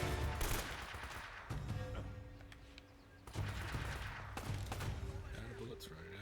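Rapid bursts of gunfire crackle through a firefight in the video game Uncharted: Drake's Fortune, with clusters of sharp shots over a busy, continuous backdrop and talk running alongside.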